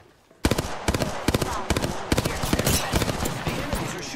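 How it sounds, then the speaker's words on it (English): Enemies in Apex Legends open fire in rapid, loud bursts of gunshots that crack close and in quick succession. The rattling volleys run continuously after a brief quiet start. "The enemies are shooting at me"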